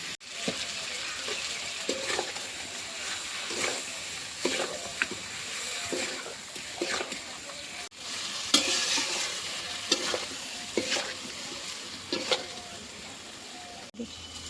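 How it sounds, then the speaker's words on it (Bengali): Potatoes sizzle steadily in a pan for a Bengali potato kosha while a utensil scrapes and stirs them in repeated strokes, close and continuous throughout. "আমি আলু কষা করছি"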